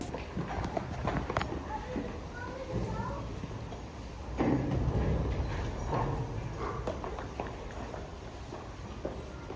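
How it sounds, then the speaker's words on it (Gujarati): Hooves of a ridden horse clip-clop on the grounds of the Kathwada ISKCON temple, a steady run of uneven hoof strikes mixed with voices talking nearby. "હે ભાઈબંધ તું ઘોડો ચલાવો."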